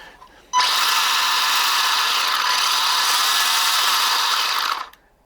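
A loud, steady mechanical whirring of worn small gears grinding at high speed in a Kyosho Sand Master 2.0 RC car, starting abruptly and running continuously for several seconds before cutting off.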